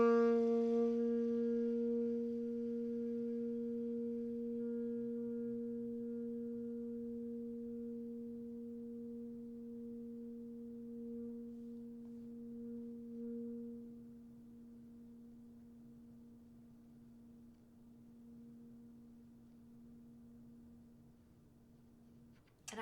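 A single sustained saxophone tone starts moderately loud and slowly fades to a barely audible whisper over about twenty seconds.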